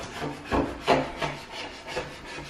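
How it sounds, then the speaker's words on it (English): A spatula scraping dried, hardened icing off a wooden table, with a series of rough rasping strokes at an even rhythm, close and fairly quiet, with no talking. "If not, you're scraping your table with a spatula."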